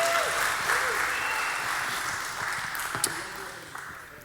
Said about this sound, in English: Give Gary a round of applause, Gary.